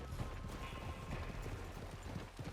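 Horse hooves clop on the ground in Red Dead Redemption 2, a quick, uneven run of soft hoofbeats over a low rumble of game ambience, fairly quiet and distant.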